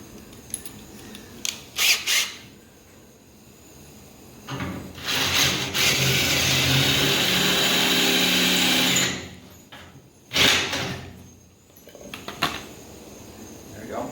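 A cordless power drill whirs steadily into material for a few seconds while fixing parts on a VW Beetle V8 project, bracketed by clicks, handling knocks and a short second burst.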